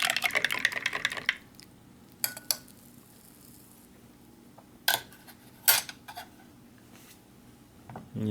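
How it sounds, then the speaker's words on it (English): A spoon stirs a powdered MRE drink, starting with a quick run of rapid clinking against the container, then a few scattered sharp taps separated by quiet pauses. "Give that a good stir."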